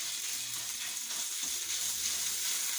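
Garlic paste frying in oil in a frying pan for chicken kachori, a steady close hiss and sizzle throughout, with no voices.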